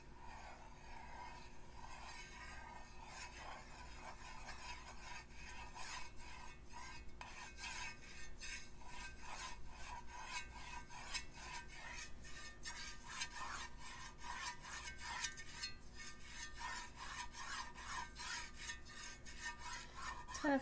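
Fine scratching and rasping on a candle lid, steady close-up strokes in a quiet room as shapes and little marks are drawn across the surface.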